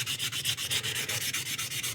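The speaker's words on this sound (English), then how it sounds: "as I'm sanding" Sandpaper rubs back and forth over resin parts of a 1/60 NeoGrade Sazabi model during wet sanding, in fast, even strokes of close, scratchy rasping with no pauses.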